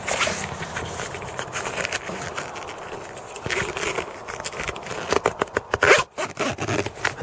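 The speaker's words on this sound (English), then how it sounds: "zip this side up" A zipper on a Jeep soft-top is drawn along in several pulls, close and crisp, with scratchy ratcheting bursts that grow sharper and choppier toward the end, with no talk.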